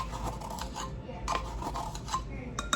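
A whisk beats batter containing baking soda and baking powder in a bowl, making close, quiet, rhythmic scraping and clinking strokes against the bowl's sides.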